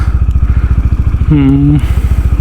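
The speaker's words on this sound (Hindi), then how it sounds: "अब हम थोड़ा कोल्ड स्टार्ट देते हैं बाइक को" A motorcycle engine runs at a cold start with a fast, even thumping idle, loud and close, while a short tonal voice-like sound rises briefly over it midway.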